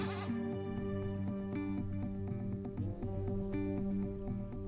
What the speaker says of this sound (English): This is an ideal place for sheep to graze.